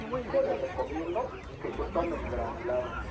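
Chickens and roosters cluck in a busy Oaxaca town market among ducks, geese, rabbits, quail and fighting cocks, a steady mix of near bird calls under crowd voices and people talking throughout.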